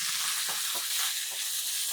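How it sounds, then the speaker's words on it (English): Seasonings sautéing in hot oil make a loud, continuous hiss of frying, with a few soft stirring knocks underneath. It stays steady and close, with no talking. "we're going to saute the seasonings"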